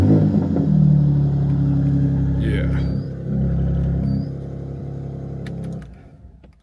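A car's engine fires on a cold start and revs, a loud low rumble that surges twice before settling and dying away, with a brief voice over it.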